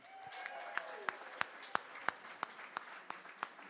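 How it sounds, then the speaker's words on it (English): Scattered applause at an art auction, a few distinct claps ringing out at a steady rhythm over quiet room tone after a piece is awarded. "Would you give Daniel a huge round of applause?"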